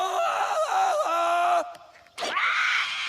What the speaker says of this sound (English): A clear jungle yell tells everyone you're ready to swing.